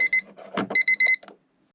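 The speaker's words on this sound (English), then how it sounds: "And that's the timer." Electronic timer alarm beeping in quick bursts of bright, high-pitched tones, interrupted by a short clatter in the middle, then stopping abruptly and leaving near silence.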